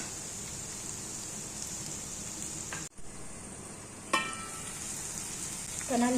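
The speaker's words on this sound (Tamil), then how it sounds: "இப்போ நல்லா தக்காளி வதங்கிடுச்சு" Tomatoes sautéing in a pan for a Tamil dal kofta curry, a soft continuous sizzle with a few utensil knocks and stirring scrapes, quiet and alone.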